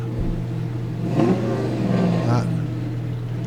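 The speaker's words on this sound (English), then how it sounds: "Always got to rev up the engines a little bit, don't you?" Custom lead-sled cars rev their engines at the Kustom Kemps of America Sundown Cruise, a couple of short revving swells rising over a low idle hum, with people talking nearby.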